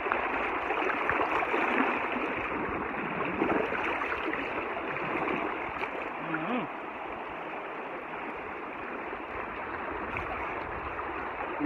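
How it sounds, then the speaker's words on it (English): A small river stream in Jamaica flows in a steady, close wash of rushing water that holds an even level from start to finish. "Nice little stream."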